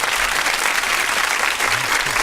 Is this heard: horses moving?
no